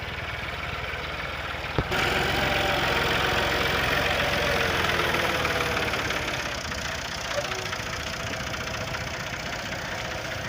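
A tractor engine runs loudly and close by, a steady chugging drone with a sharp thump near the start.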